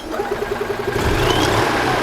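A gas-powered 2002 EZGO TXT golf cart engine fires up instantly and settles into a steady, close, loud running hum, with no talking.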